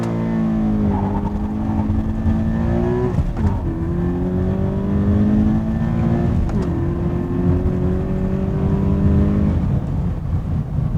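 A Toyota 86 with its boxer four-cylinder accelerates hard through a 0 to 100 km/h run, the engine note rising through the revs, dropping briefly at two gear changes and climbing again, loud and continuous.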